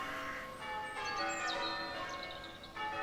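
Church bells pealing in wartime Britain in 1917 to celebrate a victory, a rich cluster of overlapping ringing tones with bright struck strikes, steady and moderately loud throughout, no talking.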